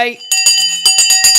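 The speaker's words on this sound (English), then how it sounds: "The bell has now gone" A bell rings to mark a stock market close, its sustained tone ringing on beneath a voice talking over it.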